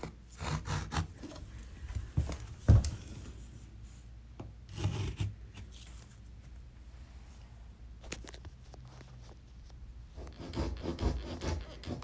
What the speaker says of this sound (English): Now I'm using a jab saw or drywall saw to cut the parts out